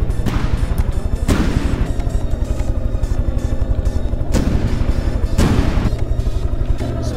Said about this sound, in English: So just a little spam gun here for the tail fin. Shooting composite rounds.